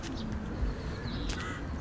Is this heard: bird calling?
yes